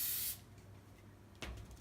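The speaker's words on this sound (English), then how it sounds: "A little bit more spray right here. And then spray the whole thing." A short hissing burst from a spray adhesive can, followed by a brief second puff after a pause; close and fairly quiet.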